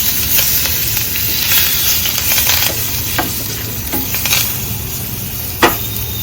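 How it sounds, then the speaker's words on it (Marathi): Curry leaves crackle in hot tempering oil with a loud, steady sizzle close up, broken by scattered pops and the scrape of stirring, with no voices. "आता आपण कढीपत्ता टाकणार आहोत ह्याच्यामध्ये।"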